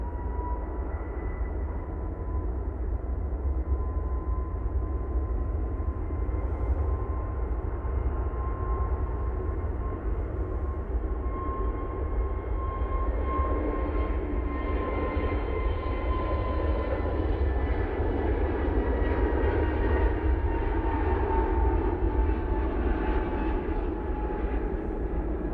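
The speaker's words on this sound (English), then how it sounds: "we do have the KLM A321 Neo now departing back to Amsterdam" A KLM Airbus A321neo jet departing from Manchester Airport, a loud steady engine roar with a rumbling low end that swells slightly as it goes, no talking.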